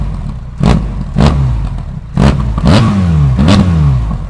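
A Harley-Davidson Pan America motorcycle engine revs in several sharp blips, each swelling and falling in pitch, over a steady idle rumble; loud and close, with no talking.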